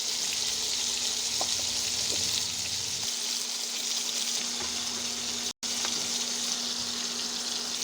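Shrimp frying in hot oil for a Bengali bitter gourd and prawn dish, a steady dense sizzle that runs unbroken from start to end, with a few soft clicks and a momentary dropout near the close.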